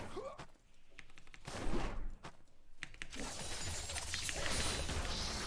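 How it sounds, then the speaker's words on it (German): Cannon fire in a fast online action game, with several sharp booming blasts and crackling impacts over dense, noisy battle sound that thickens into a continuous roar toward the end. "Ah, immer diese Kanonen."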